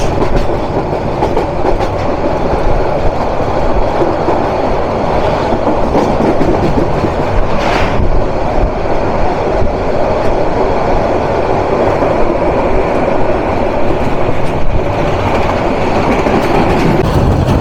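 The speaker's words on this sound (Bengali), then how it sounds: "সত্তর কিলোমিটার বেগে ঢাকা ক্যান্টনমেন্ট স্টেশন থ্রুপাস মোহনগঞ্জ।" The Mohanganj Express passing through Dhaka Cantonment station at about 70 km/h: a loud, close, continuous rumble with rail clatter throughout.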